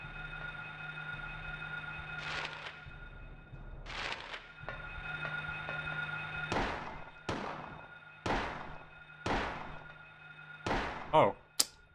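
Sharp single gunshots in the PS1 game Silent Hill, about eight spaced shots ringing out fairly clearly over a steady low background hum, the last ones coming closer together.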